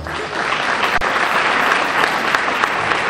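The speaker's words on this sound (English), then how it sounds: "let's give them a round of applause" A community choir concert audience claps steadily in sustained, dense applause, loud and close, holding at an even level throughout.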